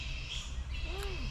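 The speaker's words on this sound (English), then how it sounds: "what we can hear here are not birds. They're bats." Faint high squeaks and chirps from fruit bats roosting in trees on Magnetic Island, a brief thin call sweeping up and down amid soft background hiss.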